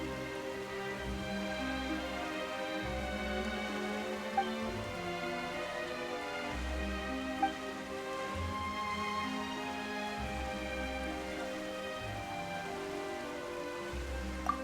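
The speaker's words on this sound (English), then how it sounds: "Why is it raining all of a sudden?" Steady rain falls throughout a Genshin Impact scene, a continuous dense patter on surfaces with a few faint louder drops, alone without voices.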